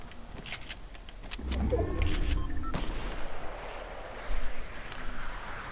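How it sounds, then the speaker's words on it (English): Video game gunfire crackles in scattered bursts that sound fairly distant, over a rushing, wind-like background. "Who are they shooting at? They're shooting at someone else."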